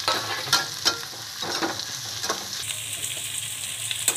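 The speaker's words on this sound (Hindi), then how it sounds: "और ये शिमला मिर्च डाल दें।" Long thin slices of capsicum (shimla mirch) frying and being stirred in a pan for noodles: a close, steady sizzle broken by sharp scrapes and clinks of the spoon, no talk.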